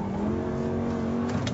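Lamborghini engine revving hard on a race track, a loud sustained mechanical roar with a rising pitch heard from close by, briefly accompanied by faint tyre noise.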